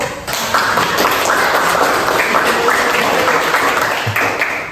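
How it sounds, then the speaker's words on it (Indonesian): Lively applause from a group of participants at a teacher training session, with many hands clapping together in a close, steady burst that lasts several seconds, plus a few distinct taps mixed in. "Silakan beri aplaus dulu."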